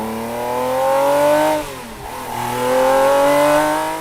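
A Ferrari F50 engine revving: high-revving, rises in pitch, dips briefly around the middle, then climbs again, loud and close with a strong harmonic whine.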